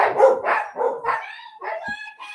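A husky and a second dog bark in quick succession, several loud, close yips and barks running together over about two seconds with no talk.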